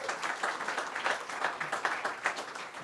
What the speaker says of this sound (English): we can have a thank you round of applause for our retail specialist panel